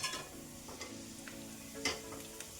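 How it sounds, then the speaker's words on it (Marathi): Garlic tempering in hot oil for a traditional spinach and chana dal dish, a soft steady sizzle with stirring clatter and faint scraping throughout, close and moderately quiet, no talking. "एकदम अशी छान सर्र आवाज आला पाहिजे फोडणीचा"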